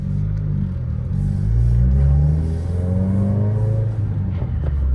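A 2021 Subaru WRX with a manual transmission pulls hard under acceleration. Its loud engine drone climbs in pitch through the gears, with a brief dip at a shift, and there is no talking.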